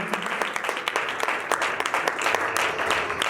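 Applause from a congregation at a night prayer service, a brisk patter of many hands clapping, fairly close and moderately loud, with irregular sharper claps standing out.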